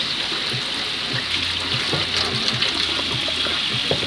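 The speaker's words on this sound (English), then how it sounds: "we're just going to give it a hot water rinse" Hot tap water runs steadily over a glass piece during a rinse to wash out solvent and salt, a loud, continuous gushing splash from start to finish with no voices.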